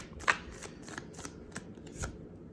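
Tarot cards are shuffled by hand close up: a series of quick crisp riffles and flicks in uneven bursts, soft overall with one sharper snap near the start.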